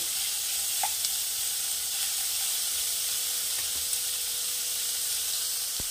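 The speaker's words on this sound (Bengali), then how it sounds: "এবারে আমি গ্যাসের হিটটা বাড়িয়ে দেবো, দিয়ে চিকেনটাকে ভেজে নেব।" Chicken pieces fry over high heat in a pan, giving a continuous, even sizzling hiss with faint spatters and no talking.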